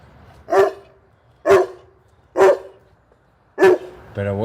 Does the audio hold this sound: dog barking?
yes